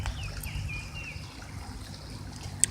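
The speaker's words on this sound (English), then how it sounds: "You hear the sound of the water?" A creek flows outdoors with a faint, steady trickling wash, distant and even throughout, with no voices.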